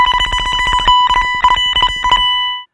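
An electric guitar note picked in rapid tremolo, chopped into stuttering bursts with short gaps, sounding bright and beeping like a Super Mario score counting down.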